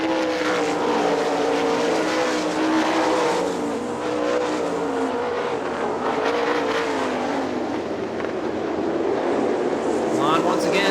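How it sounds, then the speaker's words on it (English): 410 sprint cars race bumper to bumper at Hartford Speedway in Michigan, their engines roaring loud and steady as they pass, heard under a race announcer's continuous commentary. "Blonde once again to the inside of Brett Mann, 1 and 2. They're bumper to bumper"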